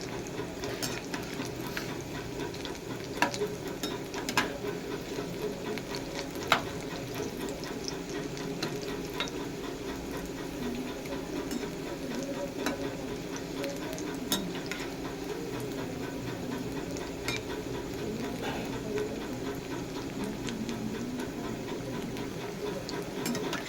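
Pea pakoras fry in oil with a quiet, steady bubbling sizzle broken by occasional sharp pops and clicks, heard close and without talk.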